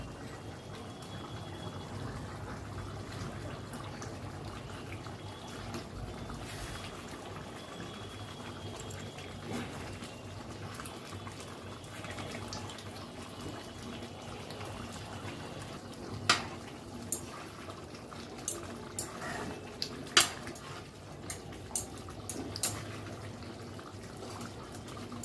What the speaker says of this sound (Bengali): ঢাকা দিয়ে রান্না করব 20 থেকে 25 মিনিটের মতন, যতক্ষণ না মাংসটা সেদ্ধ হচ্ছে